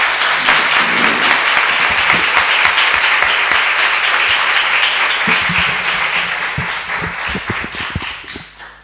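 Audience applause at a mindfulness-based stress reduction talk, a dense burst of clapping that gradually thins into scattered individual claps as it fades.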